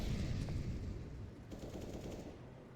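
Gunfire in a Counter-Strike match, with bursts of shooting and molotov and grenade action. Dense, muffled rattling shots roll on continuously under a busy game mix, moderately loud at first and thinning slightly toward the end.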